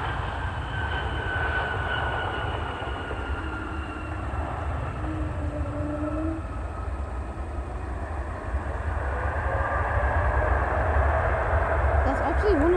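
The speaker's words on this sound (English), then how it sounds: "That's actually one of the quietest reverse thrusts I ever heard from a plane." Steady, broad roar of an Airbus A220 airliner's reverse thrust on landing, fairly loud and constant throughout, rising slightly toward the end.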